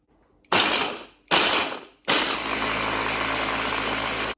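An electric blender chops chunks of fresh horseradish root, whirring loudly in two short pulses and then one long sustained run with a rattling, grinding edge.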